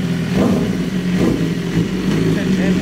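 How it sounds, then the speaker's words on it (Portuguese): A BMW S1000 motorcycle engine revs and accelerates in surges, loud and close, with a steady mechanical roar throughout. "partiu acelerar nossa nave, nossa BMW S1000"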